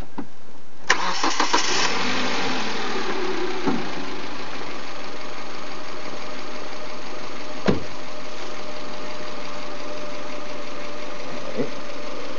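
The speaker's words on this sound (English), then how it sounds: "I will start this car. Get this engine going." A car engine cranks and catches with a sharp start, then settles into a steady, continuous idle that runs on, broken by a couple of brief clicks.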